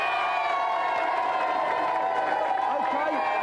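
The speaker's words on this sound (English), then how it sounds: "let's have a big round of applause for Take This" A television game show studio audience roars with loud continuous cheering, whoops and applause, a dense crowd wall of sound with voices mixed in throughout.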